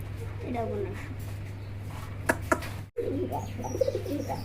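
Pigeons coo in low, rolling bursts at the start and end, over a constant electrical hum, with a couple of sharp clicks between.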